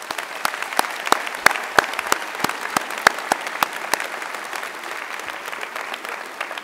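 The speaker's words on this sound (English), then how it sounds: "So please give them a big round of applause." Audience applause at a university economics graduation ceremony, steady clapping from a large crowd in a hall with sharp individual claps standing out, sustained throughout and slightly thinning near the end.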